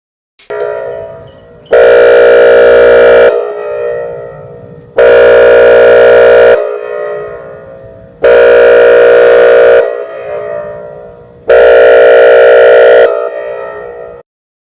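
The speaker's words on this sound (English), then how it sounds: "even this name, Wheeling Siren System, look into the frequencies, what it's about" Wheeling siren system sounding in loud, long blasts, four sustained wails each rising sharply and cutting off, with fading tails between them and no talk.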